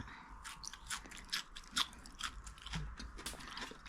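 Crisp, close biting and crunching of food with coriander, a rapid series of crunchy chews with no talking.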